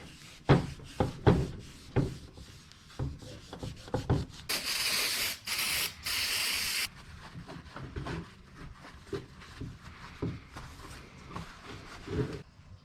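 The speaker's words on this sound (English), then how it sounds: "I'll just give them a light sand or scuff, and then we'll clean them" Light sanding or scuffing of Volkswagen GTI brake calipers by hand, with short rhythmic rubbing strokes up close and a sustained hissing burst partway through, likely spray. No talking is heard.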